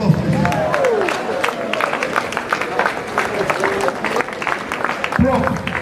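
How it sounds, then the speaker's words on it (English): An audience at a professor's inaugural lecture gives a standing ovation, with a dense round of clapping filling the hall. Voices call out and talk over the applause. "I will give him a standing ovation and a round of applause"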